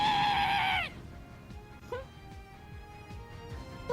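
A creature called the Cure lets out a loud, shrill, bleating scream in the Cafe Enchante game, lasting under a second before cutting off into quieter rumbling and scattered game sounds.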